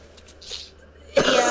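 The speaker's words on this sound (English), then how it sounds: "I keep coughing" A person with a summer cold coughs: a few faint throat sounds at first, then one loud, harsh cough bursting out near the end, close and with no talk.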